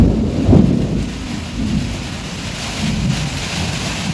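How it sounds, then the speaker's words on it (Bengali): A thunderstorm with deep rolling thunder rumbling in low waves over steady rain pattering outside, the loudest thunder surge coming early, with light wind buffeting the microphone. "ভীষণ বিদ্যুৎ চমকাচ্ছে।"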